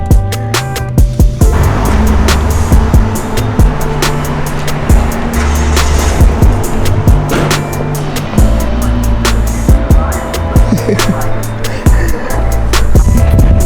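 A 1990s BMW E34 540i's V8 engine revs hard in first gear and drops back repeatedly, loud and close, with rattling mechanical noise and brief bursts between pulls.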